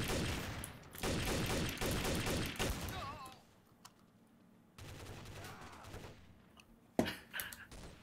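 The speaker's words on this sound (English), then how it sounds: "Who's shooting?" Bursts of rapid gunfire in a Gmod TTT match, loud volleys packed together at first, then a quieter gap with scattered shots and a final sharp burst, with voices talking in between.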